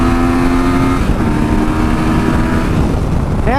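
A 2018 Yamaha Tracer 900 motorcycle engine pulling hard under acceleration, a loud close steady roar with tones shifting as it revs, and no voices.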